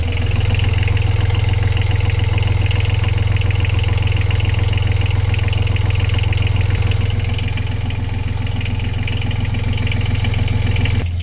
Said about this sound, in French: ok, on part le moteur